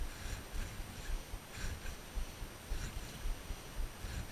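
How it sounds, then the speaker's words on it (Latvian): Strong wind gusts over the Lielupe river around a small fishing boat, making a low rushing roar that swells and fades in pulses. The sound is fairly faint, with no talking. "Vējš paliek arvien stiprāks"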